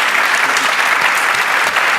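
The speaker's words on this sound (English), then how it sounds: "Round of applause for these folks, please." Audience applause for panelists at the close of an evening discussion on presidential elections and democracy, a steady, dense wash of clapping from a crowd that holds at full strength for about two seconds.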